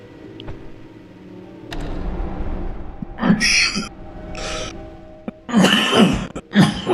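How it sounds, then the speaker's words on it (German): A man coughs and clears his throat several times in short, rough bursts close to the microphone, with a quiet stretch of him speaking and faint background hum between the fits. "das Husten nervt mich schon so ein bisschen"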